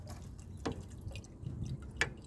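Water poured into a Nissan Pathfinder to trace a leak: faint, sparse drips, with two distinct drops about a second apart against a low, steady background rumble.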